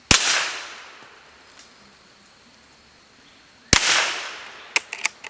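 Two sharp, loud rifle shots from a Remington Scoremaster 511, fired several seconds apart outdoors, each with a decaying echo, followed by a few small clicks and knocks.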